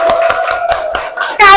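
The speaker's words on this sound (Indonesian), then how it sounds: "Tepuk tangan dong buat kelompok satu." A group of children claps in a steady, rhythmic beat of about six sharp, close claps for a classmate group in a classroom, ending with a brief louder burst.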